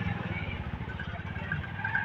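A Honda Supremo 150 motorcycle with a freshly refreshed engine runs close by with a low, pulsing throb that stays steady and rough, with faint voices in the background.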